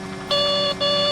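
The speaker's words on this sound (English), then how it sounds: "All warning sounds are beautifully simulated" An MD-80 cockpit warning in the X-Plane 10 flight simulator: two loud, steady electronic tones, each about half a second long and separated by a brief gap, heard on their own.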